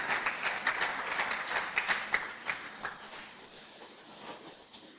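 A church congregation claps in steady, dense applause, a continuous patter of many hands that peaks early and gradually thins toward the end.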